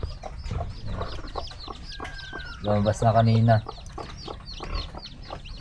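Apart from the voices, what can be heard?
chickens clucking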